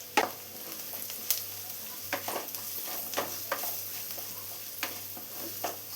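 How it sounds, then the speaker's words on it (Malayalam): Onions with turmeric powder sautéing in a pan while a mango moru curry is made, a soft steady sizzle broken by several distinct scrapes and taps of a spoon stirring, close and fairly quiet with no talking. "ഇനി ഇതെല്ലാം ഒന്ന് ട്രാൻസ്പെറൻ്റായി വരുന്നവരെ ഒന്ന് വഴറ്റിയെടുക്കാം."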